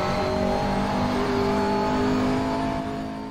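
A race car engine in a racing video game drones loudly and steadily, its harmonic whine holding at high revs with a slight pitch shift before easing off at the end.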